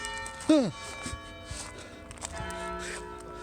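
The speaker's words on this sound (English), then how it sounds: "Every time I go anywhere, they play the bells." Church bells ring in an English village with long, overlapping tones that hang in the air, alongside a sharp swooping sound and faint background voices.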